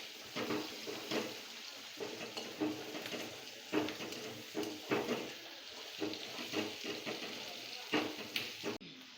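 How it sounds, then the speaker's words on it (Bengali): Onions frying in a wok, a steady sizzle broken by repeated scraping and stirring strokes with clinks of a utensil, close up throughout, no voices. "এখানে পেঁয়াজগুলো অল্প ভাজা ভাজা করে নেবে।"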